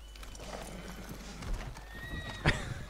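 A horse in the video game Red Dead Online whinnies and clip-clops, hooves plodding steadily under faint game ambience before a sharp loud neigh near the end.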